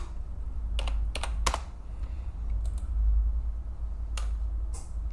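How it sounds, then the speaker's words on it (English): Keys on a computer keyboard are typed in a few quick clusters of clicks, close and fairly light, with pauses between bursts over a low steady hum. "let's just type in prone"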